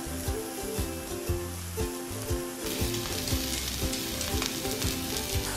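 Arab-style beef steak sizzling steadily in a hot frying pan, a loud, continuous crackle of frying that grows denser partway through.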